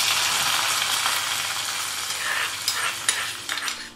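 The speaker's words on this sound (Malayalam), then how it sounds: "ഇനി കടുക് വറുത്തത് കറിയുടെ മുകളിലേക്ക് ഒഴിച്ചു കൊടുക്കാം." Hot oil with fried mustard seeds is poured over drumstick leaf dal curry, a bright hissing sizzle that gradually fades, ending in a few soft crackles and clinks.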